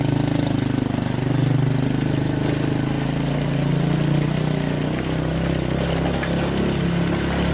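A motorcycle ojek engine idles loudly and close on a mountain road near Sindoro, a steady low chugging rumble that holds even throughout with a slight shift in pitch midway.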